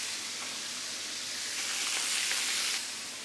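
Onions and small peppers hit a hot pan where chicken was just browned for poulet basquaise, letting out a steady, close sizzle of frying that swells louder toward the end.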